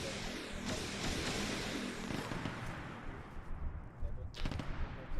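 Distant gunfire from Marauders in a Warhammer 40k video game, a continuous rumbling barrage of shots and booms with a sharper burst near the end, under faint voices.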